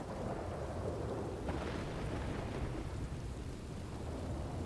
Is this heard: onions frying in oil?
no